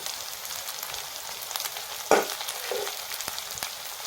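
Cumin seeds dropped into hot oil with chopped green chillies for a dry radish stir-fry sizzle in a steady close hiss, with a couple of brief sharper spits and crackles along the way.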